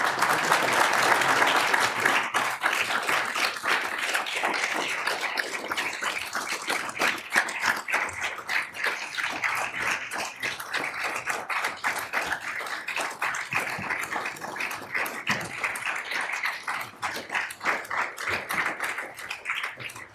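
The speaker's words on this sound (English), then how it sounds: "how about a round of applause for Mr. Moore?" An audience at a city council meeting claps steadily for about twenty seconds, a dense, even patter of many hands that thins slightly toward the end, with no talking over it.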